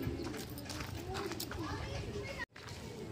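Soft pigeon coos rise and fall through a steady outdoor background, with a voice speaking nearby over the calls.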